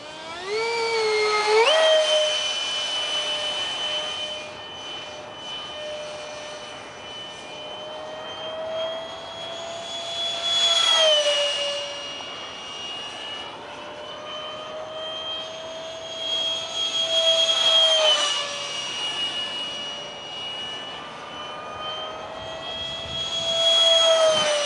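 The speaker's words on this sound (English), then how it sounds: "One fun jet to fly" A 70mm EDF RC jet with a Bat Wing airframe flying, its electric ducted fan giving a steady high-pitched whine that swells and fades in pitch and loudness as it makes repeated passes, with no talk.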